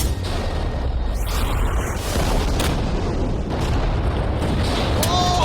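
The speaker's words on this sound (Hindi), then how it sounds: "ये एक बहुत ही बड़ा धमाका होने वाला है" A huge TNT explosion in the video game Minecraft rumbles as a loud, deep, sustained boom with heavy low roar and crackling debris that persists throughout.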